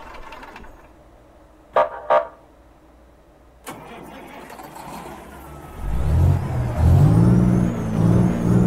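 Euro Truck Simulator 2 modded truck sound: two short blasts sound alone, then an engine starts and rumbles louder and deeper toward the end.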